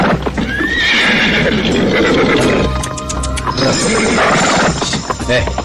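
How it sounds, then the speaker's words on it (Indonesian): A horse neighs and whinnies loudly as a radio drama sound effect, with clip-clop hooves and dense layered ambience behind it, the whinny rising clearly near the start. "Tiba-tiba kuda Jaka Badak meringkik seperti mencium ada bahaya"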